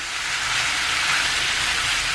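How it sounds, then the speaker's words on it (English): Pork belly frying in a pan for keto recipes, a steady loud hiss of sizzling fat that holds unbroken and close throughout. "I'm gonna fry all this up in here."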